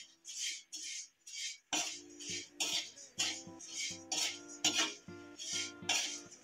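A spoon stirring red pepper, black pepper and sugar in a bowl for navratan namkeen: a steady rhythm of close, bright clinks and scrapes of metal against the dish, repeating every half second or so.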